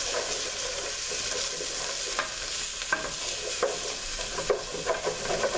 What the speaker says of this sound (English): we're going to saute them for about a minute or so.